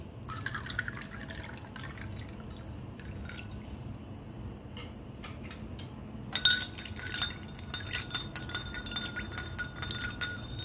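Water is poured into a lemon juice drink with ice cubes and salt, a faint trickle and splash joined by light clinks of ice against the glass, growing busier toward the end.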